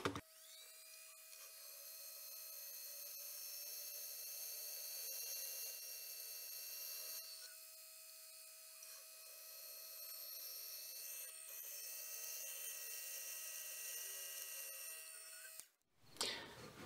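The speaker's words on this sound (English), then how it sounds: "Got a number 30 drill bit chucked up, so let's go ahead and get these pinholes drilled." A drill press with a number 30 bit whines steadily at a high pitch for a long stretch, boring pin holes into a steel knife blade, then cuts off abruptly near the end.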